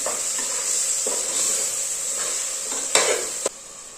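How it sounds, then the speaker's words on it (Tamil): Rice stirred gently into bubbling vegetable biryani masala hisses with a constant sizzle, broken by a few soft scrapes and two sharp clinks of a spoon against the pot near the end. "ஒரு 2 நிமிஷம் மட்டும் இந்த மசாலாவில் அரிசி வேகட்டும்"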